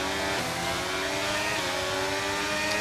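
Race car engines in a racing video game drone and rev together at the start of a league race, a steady close layered mechanical hum that holds without a break.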